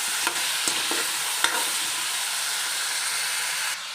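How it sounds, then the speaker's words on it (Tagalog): Pork caldereta with potato and carrot is stirred in a pot over a steady close sizzle and hiss, with a few soft utensil scrapes early on and no speech. "Haluin lang natin."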